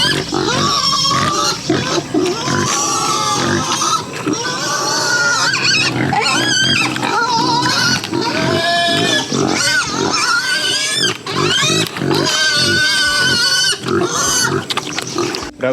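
Native pigs grunt, squeal and oink continuously and loudly, a crowded, overlapping chorus of several animals close by in a pig pen.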